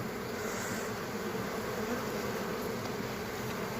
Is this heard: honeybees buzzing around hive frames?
yes